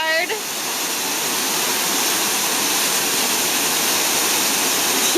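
A Havasupai waterfall in the Grand Canyon roars as a broad, steady, close wash of falling water throughout, with a short voice near the start.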